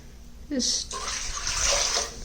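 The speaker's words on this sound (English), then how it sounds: "I'm just pouring the water in a different container so that I can just dispose it off later." Water used in reclaiming clay is poured slowly from one container into another. A close, splashy trickle begins after a brief quiet start and runs steadily to the end, and a voice is heard briefly near the start.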